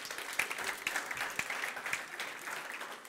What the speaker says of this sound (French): Mais on peut les applaudir.